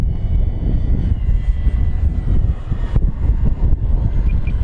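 A steady, droning engine from an FMS Pitts V2 1400mm RC biplane flying in strong wind, heard continuously over gusty rumble without any rise or fade of a clear pass.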